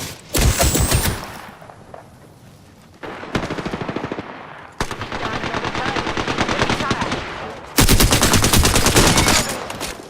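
Submachine gun fire in a tactical shooter video game, rapid automatic bursts in several long strings separated by brief pauses, loud and close, with faint game voice callouts.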